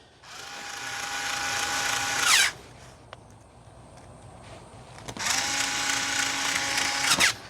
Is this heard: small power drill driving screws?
yes